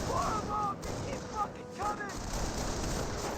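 Gunfire and artillery in a Company of Heroes 1 match, Wehrmacht against US forces, with a Schwimmwagen and Volksgrenadiers in the fight: dense, continuous battle noise with scattered sharp reports and whistling tones, mixed under ongoing game sound.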